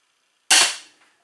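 An Excalibur crossbow fires once with a sharp, loud snap and a brief ringing tail. Silence comes before the shot and a faint rustle follows it.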